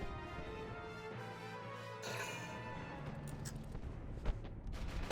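Underminer artillery fire in the strategy game Valkyria Chronicles: a heavy blast lands with a rolling rumble over steady battlefield noise, and a sharper impact follows near the end.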